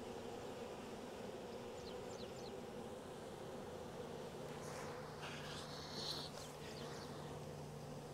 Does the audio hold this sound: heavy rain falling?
no